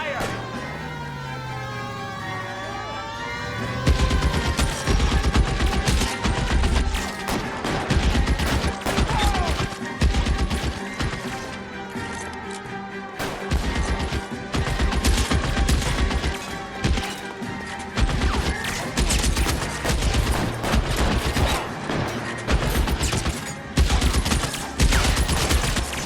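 Gunfire erupts in the L.A. Noire video game, with rapid bursts and single shots crackling densely over several seconds. Impacts and thuds mix in among the shots, and voices call out amid the exchange after a quieter opening.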